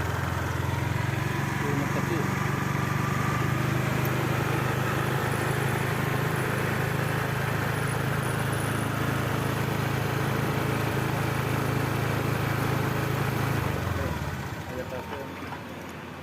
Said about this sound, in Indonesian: kemudian digas tidak berebut lagi